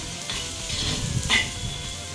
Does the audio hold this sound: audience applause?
no